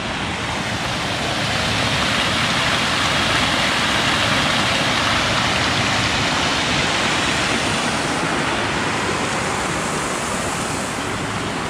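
Yakima River water rushing steadily beside a pond area in late autumn, a dense, continuous roar with no pauses, fairly loud and close throughout.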